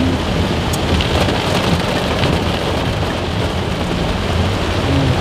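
Heavy rain pours steadily and loudly close by, a dense continuous hiss of drops on surfaces with no voices, and faint thunder may rumble underneath.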